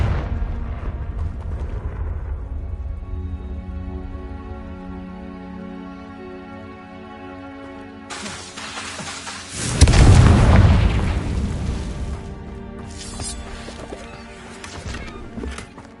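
The Confringo fire spell from Hogwarts Legacy goes off midway as a single deep, loud boom, with a low rumble that fades over a few seconds against quieter game sounds.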